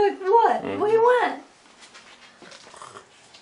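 A dog whimpers and whines in rising, wavering cries over about a second and a half, close and fairly loud, then quieter sounds follow; it is begging for coffee.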